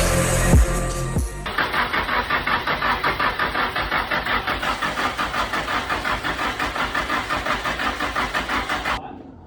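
A Nissan S13 car engine cranks and catches on its first start, then settles into a steady, rhythmic idle close by that runs for several seconds before cutting off.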